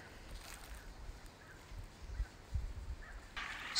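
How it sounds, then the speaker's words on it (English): Turkeys being fed outdoors gobble in a few short, faint calls against a quiet, low rumbling background, with a brief louder rustle near the end. "Let's go hang out with some turkeys."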